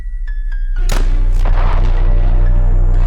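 A few faint beeps, then a sudden loud blast erupts, followed by a second burst and a rumbling roar that stays heavy and continuous.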